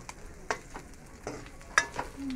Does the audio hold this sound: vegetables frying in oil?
yes